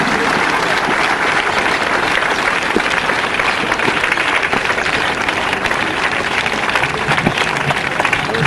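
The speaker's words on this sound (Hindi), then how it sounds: "कृपया तालियों से इनका स्वागत करें" Sustained, dense applause from an audience at a CRPF government event, welcoming people called to the stage. The clapping fills the room steadily for several seconds, with faint speech underneath.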